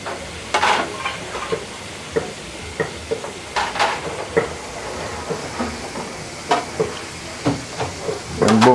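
Oil sizzling in a pan over an open fire at a Hellshire Beach, Jamaica seafood village while lobster is prepared: a steady crackling fry with scattered sharp pops and clatters of stirring, moderately close, no speech.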